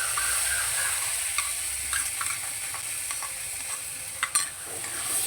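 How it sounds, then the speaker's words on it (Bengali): Spice paste sizzles and fries steadily in a pan for a vegetarian bottle gourd dish, with a continuous hiss broken by a few light scrapes and clinks of stirring. "মশলাটা এর সঙ্গে দিয়ে ভালো করে কষিয়ে নেব"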